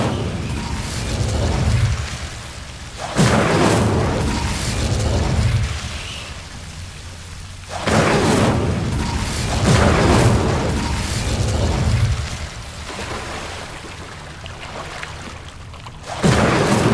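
Incendio fire spells exploding in Hogwarts Legacy: loud, booming flame blasts erupt in repeated waves, each a sudden burst followed by a long crackling roar, with several bursts spaced a few seconds apart.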